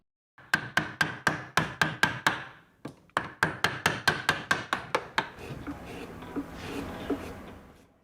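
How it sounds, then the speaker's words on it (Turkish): Mallet strikes on chisels carving a wooden block for a polychrome sculpture ring out in two quick rhythmic runs of sharp, close taps, followed by softer scraping and rubbing of the tool on wood. "Sonrasında heykeltıraş çeşitli ölçülerdeki keski gibi daha ince aletleri kullanarak devam eder."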